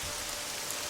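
Steady rain in the tactical video game Jagged Alliance 2, a dense, even hiss of falling drops that continues unbroken and fairly quiet through the short moment.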